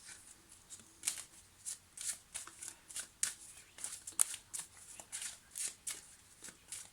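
Tarot cards shuffled by hand for a reading: a run of soft, crisp riffling bursts in an irregular rhythm, close and quiet, with no voice.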